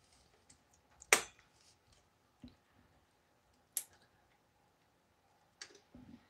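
A component snaps into place during a PC build, giving one sharp, close click followed by several fainter clicks and taps in a quiet room.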